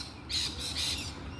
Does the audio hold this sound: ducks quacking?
no